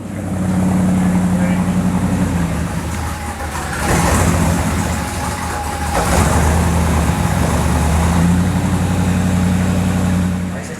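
A 1965 Rambler Marlin's engine running at its first startup, a loud rough idle rising into revs a couple of times and settling back, with people talking nearby.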